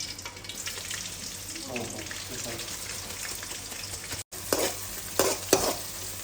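Dried red chillies fry in hot oil for a Kannada-style chilli chicken, a steady close sizzle with spoon stirring and scraping in the pan, a brief dropout, then louder clinks and scrapes near the end.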